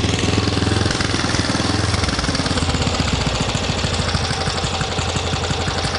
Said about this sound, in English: We got a vacuum noise.